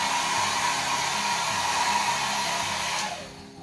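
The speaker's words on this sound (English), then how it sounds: "I'm just gonna use my hairdryer." A hair dryer blows with a steady, loud whirring hum, then switches off and winds down at the end.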